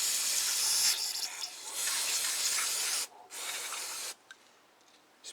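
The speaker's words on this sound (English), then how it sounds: "Spray it all out." Aerosol carburetor cleaner being sprayed into the carburetor of a Tecumseh go-kart engine, two loud steady hissing bursts with a brief pause between, close up, followed by faint short spurts.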